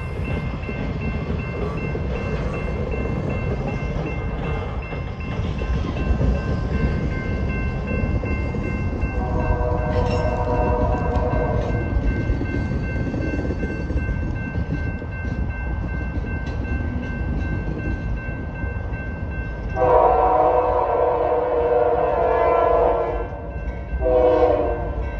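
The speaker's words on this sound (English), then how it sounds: "a westbound train approaches milepost 86 at 26th Street Southwest" A westbound Union Pacific ethanol freight train rumbles past a street crossing loudly and continuously, its horn sounding a short blast midway and a longer sustained chord near the end.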